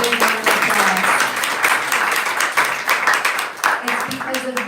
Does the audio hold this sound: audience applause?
yes